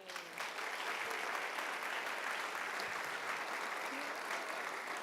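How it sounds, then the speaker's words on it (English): Employees at a service award ceremony clap together in a full, continuous burst of applause that stays steady for several seconds, heard from a moderate distance. "give yourselves a round of applause"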